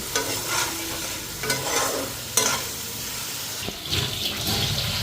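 Potatoes, eggplant and beans sizzle and fry in a pan with steady crackling, broken by several sharp scrapes and stirs of a utensil against the pan.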